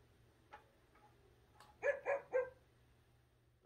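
An Amazon Astro home robot plays an imitation dog bark, three quick bright woofs in a row after a few faint clicks, close and clear in a quiet room.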